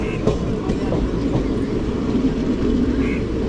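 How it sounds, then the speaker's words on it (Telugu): A train at Samalkot railway station, platform 3, on the Kakinada to Tirupati route, gives a steady loud rumble of wheels and carriages with faint clatter throughout, nearby and continuous. "మనం వచ్చి సామర్లకోటలో ప్లాట్ఫామ్ నెంబర్ 3కి అయితే మన ట్రైన్ వచ్చి ఆగింది."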